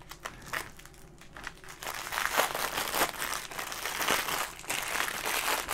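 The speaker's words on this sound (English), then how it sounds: "Damn with the plastic bags." Plastic packaging bags holding white silk fiber crinkle and rustle steadily as they are handled up close, a dense crackling texture that swells and continues without any talking.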